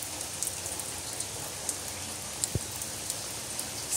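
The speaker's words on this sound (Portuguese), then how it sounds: "Chuva no sertão," Light rain falling steadily in the Brazilian sertão at Carnaíba, Pernambuco, a soft, even patter of drops with occasional sharper drips from a leaking roof and one brief low thump, with no voices.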